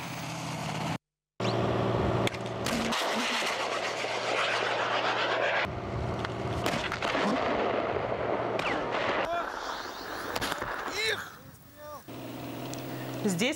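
A military live firing exercise with guided anti-tank missiles near Borisov, with loud roaring launches and blasts under a narrator's voice, a brief silent gap early on.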